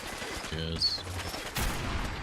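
Heavy .50 caliber machine gun fire in a Fallout 4 combat scene, a dense burst of rapid shots followed by a loud blast near the end, with a faint voice mixed in.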